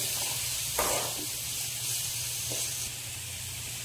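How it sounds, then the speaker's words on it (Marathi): Onions fry in a pan with green chili and garlic paste for a pea kachori filling, producing a soft, continuous sizzle and hiss with a few faint stirring bursts, fairly quiet and even throughout. "आता त्यामध्ये आपण जी हिरवी मिरचीची आणि लसणाची पेस्ट केली होती ती घालून घ्यायची आहे आणि पुन्हा छान परतून घ्यायचे"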